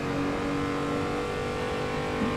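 A Sauber C9 race car engine drones steadily on track in the Assetto Corsa racing game, a loud, sustained high-revving roar with no breaks.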